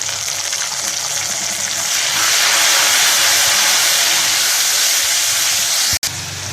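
Strong steamy sizzle of tomatoes frying in a pan with garlic ginger paste, swelling louder midway and holding steady, with a sharp click near the end.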